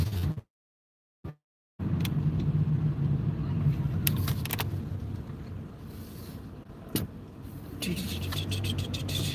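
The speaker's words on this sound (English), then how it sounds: "Okay, I'm gonna cut the car back off." A car engine idles steadily in a school car-ride pickup line, a low continuous rumble that cuts out briefly near the start, then resumes and runs on with a few clicks and shifts; a person talks over it.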